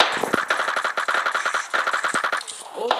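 Rapid bursts of video game gunfire, loud and close, with machine-gun rattles running in a steady rhythm for most of the stretch before tapering off near the end.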